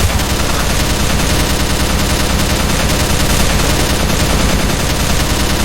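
An LMG machine gun from the Minecraft TechGuns mod fires in a sustained, loud, continuous burst, rapid video-game gunfire that never pauses across nearly six seconds with no talking.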